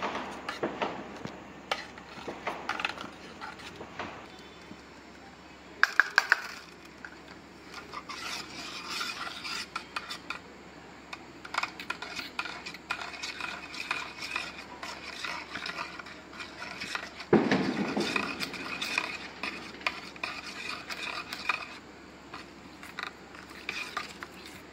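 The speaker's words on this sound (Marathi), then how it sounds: "मिल्क पावडरच्या गुठल्या होता कामा नये, ते आपण छान मिक्स करून घ्यायचे आहेत" A whisk or spoon stirs a milk powder mixture in a bowl for kulfi gulkand ice cream, giving steady scraping, rasping strokes with occasional louder knocks, close-up and continuous without talk.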